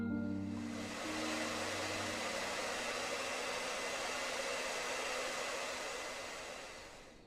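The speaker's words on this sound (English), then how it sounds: "I might have to get the little air blower" A small air blower runs with a continuous, even whooshing whir, close and steady for about seven seconds before tapering off at the end, with no one speaking.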